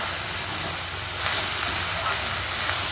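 Onions for a potato masala to serve with puri fry in a pan, giving a steady broadband sizzle and hiss that runs evenly throughout, close and moderately loud, with no voices.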